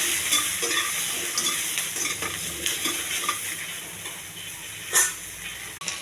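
Okra pieces fry in a pan with chana dal and a little salt, a dense, steady close sizzle with occasional stirring scrapes and one louder clatter near the end.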